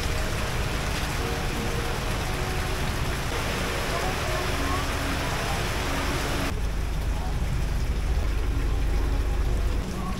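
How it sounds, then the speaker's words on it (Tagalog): Heavy rain pours steadily, a dense hiss with faint traffic rumble beneath and muffled voices in the background. "Lakas ng ulan guys."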